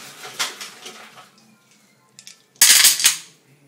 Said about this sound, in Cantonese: 放啲冰落去。